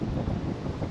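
Strong wind roars across a lake during fall bass fishing from a boat, a dense, steady rumble buffeting the microphone throughout the short moment.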